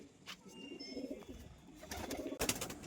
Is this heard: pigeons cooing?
yes